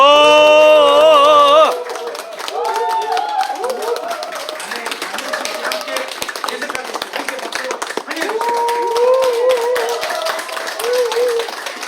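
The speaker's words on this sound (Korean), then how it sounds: "여러분 큰 박수로 환영해 주시기 바랍니다." A crowd at a press conference in Gwangju claps in welcome, a sustained round of applause that follows a short announcement, with voices and calls scattered through the clapping.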